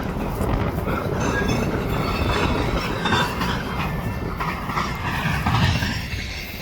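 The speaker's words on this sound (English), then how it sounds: "I don't think I've ever seen a train that close" A CSX freight train rolls past at very close range, making a loud, steady rumble and wheel clatter with metallic squeal that fills the whole clip.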